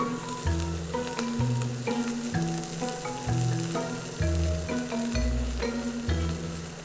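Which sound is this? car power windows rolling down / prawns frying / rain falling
prawns frying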